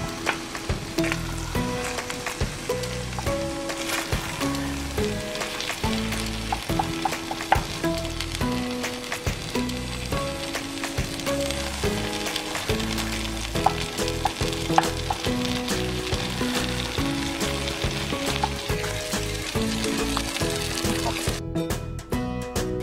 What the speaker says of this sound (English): now the beef is nicely cooked and browned